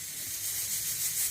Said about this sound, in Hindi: अभी कुकर की बिसल्स की आवाज़ आएगी